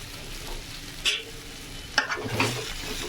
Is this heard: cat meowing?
no